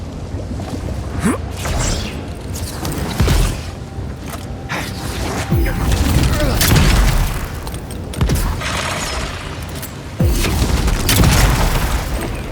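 In the video game Avowed, enemies fire at the player, with heavy booming impacts and creaking, clattering mechanisms recurring every couple of seconds over a dense, noisy combat backdrop.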